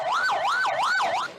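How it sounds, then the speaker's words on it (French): Ambulance siren at a hospital in Cianjur, a loud wailing tone sweeping up and down in a steady repeating cycle, close and with no talk. "Cet hôpital de Cianjur fait face à un balai d'ambulance"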